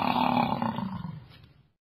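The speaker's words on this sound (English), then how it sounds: "Buffalo." A buffalo gives a deep, rough bellowing call. It is a single loud, close roar that fades out over about two seconds, with no talking.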